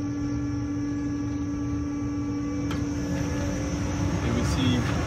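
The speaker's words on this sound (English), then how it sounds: "Now the fan is blowing full blast." A fan on a flue-curing tobacco dryer, driven by a variable speed drive and ramping up to full speed at 50 Hz, gives a steady, strong whirring hum with electrical tones.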